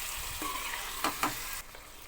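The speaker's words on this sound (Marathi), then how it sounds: "हे सर्व मिक्स करून परतवून घ्यायचं" Green chillies, spring onion and coriander sautéing in a hot pan for egg fried rice, a steady close sizzle with a few short stirring scrapes, no talk.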